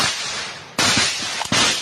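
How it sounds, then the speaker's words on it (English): Heavy gunfire in combat near Venezuela crackles through a dense, noisy roar, with a few sharp, loud bursts standing out close by. "can hear just gunfire ripping through everywhere."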